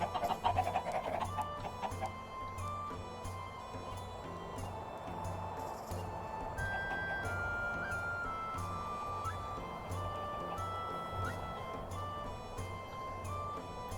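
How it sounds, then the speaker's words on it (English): Chickens cluck repeatedly around a medieval town orchard in a building game, their calls mixed with farmyard ambience and a steady low hum. "Give them some more chickens in here."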